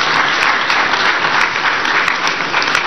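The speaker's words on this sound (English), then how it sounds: "another round of applause for His Excellency." Loud, sustained applause from an audience at a political event in Ghana for the former president John Mahama, a dense close patter of many hands lasting about three seconds with no talk over it.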